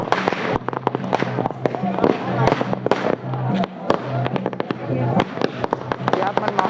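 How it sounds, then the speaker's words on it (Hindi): A dense, rapid string of firecrackers cracking and popping nonstop at a blessing ceremony celebration, loud and close, with faint voices underneath. "पूरा पटाखा के लाइन लगे हुए हैं"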